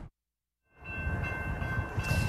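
A new commuter rail train being tested, its loud sustained rumble rising sharply after a brief silence and continuing steadily with faint tonal horn-like bands above the noise.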